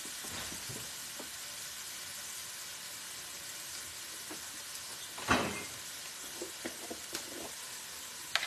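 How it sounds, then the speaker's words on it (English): Onions and minced garlic sauté in a pan for hamburger steak and gravy, a soft, steady sizzle throughout, broken by a louder stirring swish midway and a few light utensil clicks. "While those are getting translucent and tender,"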